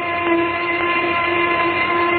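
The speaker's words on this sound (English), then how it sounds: "There's the noon whistle." A noon steam whistle blows one steady, sustained tone that stays loud and unbroken, with no voices over it.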